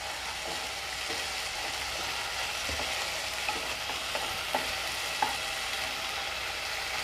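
Rice with green onion and coriander stirred in a hot pan, a steady soft sizzle under light, irregular scraping and tapping of a spoon against the pan.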